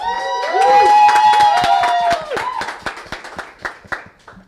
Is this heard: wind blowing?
no